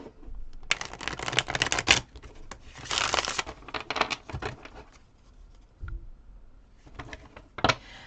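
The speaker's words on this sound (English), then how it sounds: "let me do a few shuffles here." Playing cards are shuffled in several quick riffling bursts, crisp and close, separated by short pauses and softer handling noises.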